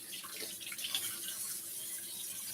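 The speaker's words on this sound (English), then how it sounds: "But I'm going to rinse that off." Beef stew meat rinsed under a running kitchen tap, a faint steady stream of water splashing continuously at a distance.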